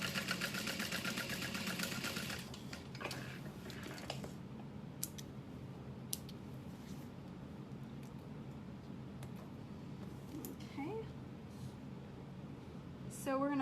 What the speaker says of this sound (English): You're just gonna sew through the card slots and that side seam